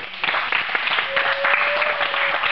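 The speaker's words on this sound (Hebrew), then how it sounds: "כפיים" An audience claps for a student at a ceremony, with brisk, fairly loud applause in distinct claps and a faint sustained tone partway through.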